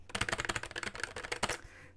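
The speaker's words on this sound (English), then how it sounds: "But I do really like this keyboard." Fast typing on a low-profile mechanical keyboard with Cherry red switches, a dense, steady run of close, crisp key clicks with no voices.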